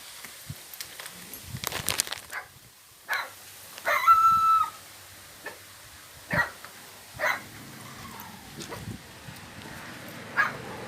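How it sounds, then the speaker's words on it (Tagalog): A dog barks several times at irregular intervals, some barks near and some fainter, amid outdoor background noise during the 2020 Taal Volcano eruption. "Ang aso."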